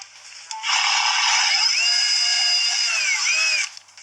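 A power drill whirs at high pitch for about three seconds, its tone shifting slightly as it bores, the bit running hot, then spins down; close and loud.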